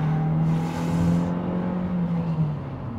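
Mitsubishi Destinator with its 1.5-litre 4B40 turbocharged four-cylinder, 160 PS and 250 Nm, pulling hard under acceleration: a steady, loud engine drone from inside the cabin with tone climbing as revs rise, no talk over it.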